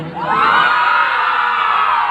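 A crowd at an outdoor Holi celebration in Assam shouts and whoops loudly together in one sustained, close burst of cheering voices.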